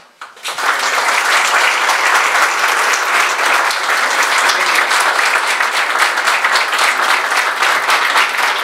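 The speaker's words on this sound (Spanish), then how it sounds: "Fuerte ese aplauso, ese respaldo y ese cariño de todos los presentes para Marnelce Ferreira" Enthusiastic applause from a large audience at an exhibition opening erupts after a brief moment and continues steadily, loud and sustained throughout.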